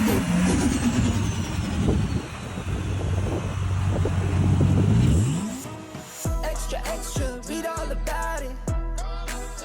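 A 700hp Nissan Patrol drifting, its engine droning and rising in pitch under heavy wind noise, then a burst of clattering, tire and gravel noise as it slides.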